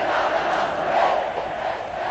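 A stadium crowd of Atlético Mineiro supporters roars continuously after Reinaldo scores in the 1980 Brazilian Championship final against Flamengo, a dense, loud, sustained wall of cheering with no pauses.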